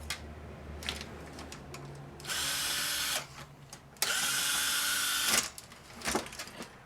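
A power drill whirs in two sustained bursts while backing screws out of a laminator being scrapped, with clicks and clatter of parts around them.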